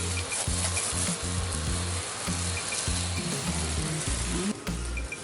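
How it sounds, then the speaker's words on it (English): Tomato and leaves being stirred together in a sizzling pan for traditional Balinese cooking in Ubud, with steady frying hiss and repeated low scraping, knocking strokes of the utensil throughout, close and loud, no talking. "With the tomato, with the leaf, everything, mixing all together."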